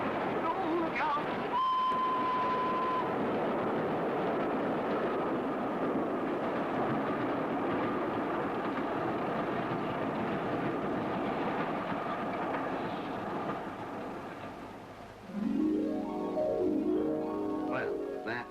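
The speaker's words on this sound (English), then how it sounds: "he hears a train approaching" A train approaches on a railway in a vintage health and safety film, a continuous rumbling roar holding steady for most of the stretch with a whistle-like tone early on and rising rhythmic clatter near the end.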